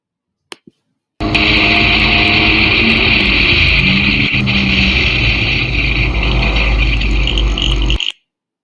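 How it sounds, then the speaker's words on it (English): A race car downshifts and slows into turn 1 after crossing the start-finish line at about 110 mph, its loud, steady engine roar filling the whole stretch before cutting off abruptly. "as you see the vehicle downshift, slow down, and turn through turn 1"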